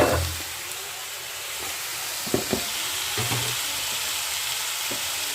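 Spice mix for fish chops fries steadily in a pan with turmeric, garam masala and Kashmiri chilli, a continuous soft sizzle broken by a few clinks of stirring.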